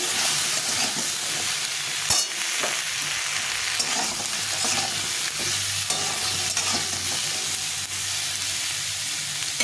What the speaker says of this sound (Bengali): সবজিগুলো দিয়ে একটু ভাজা ভাজা করে নিতে হবে